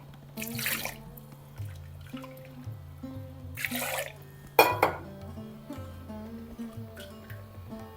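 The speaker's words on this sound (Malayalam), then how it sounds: "കുറച്ച് വെള്ളം ഒഴിച്ച്" Water is poured into a pot of curry made with ground coconut, sounding as a few short splashy bursts over steady background music.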